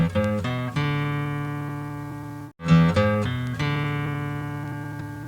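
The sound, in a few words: guitar playing opening notes of a riff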